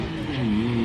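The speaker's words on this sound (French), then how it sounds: "Comment elle gueule la Golf 7R à droite." A Volkswagen Golf 7R race car roaring at a run event, its engine note loud and close with a rising, sustained growl over a brief moment.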